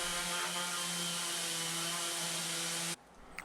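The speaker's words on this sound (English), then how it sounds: "So, I'm going to give it all a sand down first." A power sander whines steadily and loudly on wooden box joint pieces cut on a bandsaw, a sustained motor drone with harmonic tones that cuts off abruptly near the end, leaving a quiet room.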